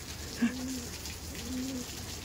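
Madras pigeons brought from Delhi coo softly in a loft, with two low, drawn-out coos a second apart over quiet background hiss.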